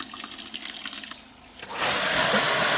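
Water running from the drain pipe of a home swimming pool fed by a pump: a soft, uneven trickle dips nearly quiet, then a stronger steady rush of flowing water surges in and holds.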